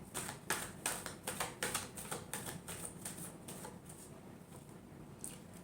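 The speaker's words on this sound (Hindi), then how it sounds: "Last shuffle." Tarot cards being shuffled close by, a run of quick riffling taps that fades into softer rustling, with one last tap near the end.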